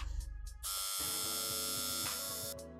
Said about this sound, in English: Not a loud trimmer either